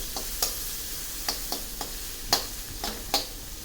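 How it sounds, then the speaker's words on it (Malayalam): Chopped onion sautéed in a hot pan, with a soft steady sizzle under a run of quick, bright spatula clicks and scrapes that come at an uneven pace, close and clear. "മുറിച്ച് വെച്ചിരിക്കുന്ന ഉള്ളി നന്നായി ഒന്ന് വഴറ്റാം"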